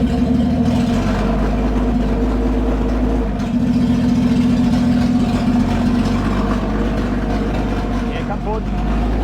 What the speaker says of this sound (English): Keep the revs up a little bit.